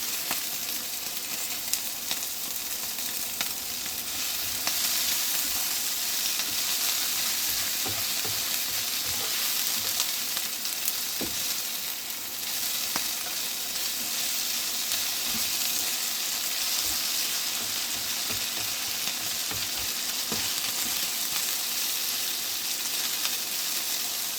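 Onion frying in oil for a mince stew, a steady close sizzle running throughout with occasional spoon scrapes and stirring clicks.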